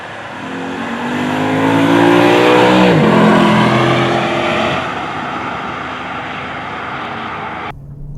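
A 2015 Lexus RC F at speed on the NOLA race track in Louisiana, its engine roaring loud and close as it revs up and shifts, pitch sweeping through gears before the pass fades slightly.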